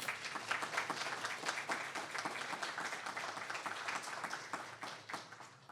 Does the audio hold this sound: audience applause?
yes